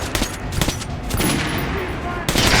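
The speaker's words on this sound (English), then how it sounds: "Try shooting for the center of the regular target" Rapid bursts of gunfire at a shooting-range target in Metro Last Light, several sharp broadband shots in quick succession over a dense, loud mix of game sound, with a final heavier burst near the end.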